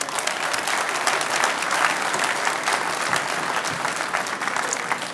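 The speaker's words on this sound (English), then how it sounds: "A round of applause again, please, for HEB Construction." Sustained audience applause fills a ceremony hall at a construction excellence awards night, dense and steady with many hands clapping at once, no speech over it.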